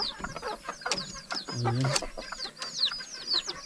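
Small bantam chickens cluck repeatedly in a busy outdoor mountain setting, several birds calling close by in short overlapping bursts, with a brief voice speaking over them.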